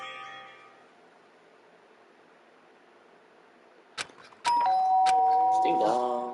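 A doorbell rings in the video game Danganronpa: Trigger Happy Havoc, giving a bright electronic ding-dong chime that sounds loud after a quiet stretch and a single sharp click, with a tone that rings on toward the end.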